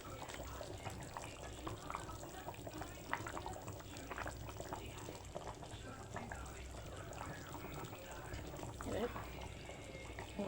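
Water pouring into chicken curry in a pan, then a steady low bubbling simmer running throughout, with a voice speaking briefly over it.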